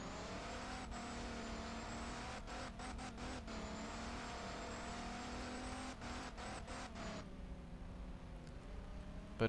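Turbocharger whine from a car in a Unity game, a steady synthetic engine drone with a high hiss layered over it. Brief dropouts break the sound, and near the end it thins out as the turbo layer cuts away.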